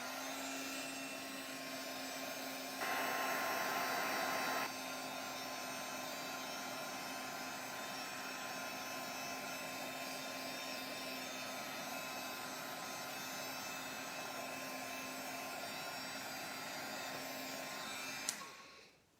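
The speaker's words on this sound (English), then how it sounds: "I'm just gonna dry this a little bit more." A hair dryer runs steadily to dry acrylic paint on a mixed media tag, a continuous close airy whir that briefly gets louder partway through and then cuts off at the end, with no talk.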